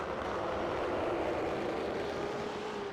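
A BMW M8 race car howls past at Suzuka during a six-hour endurance race, a loud steady roar filling the whole stretch with a slowly falling pitch as it goes by.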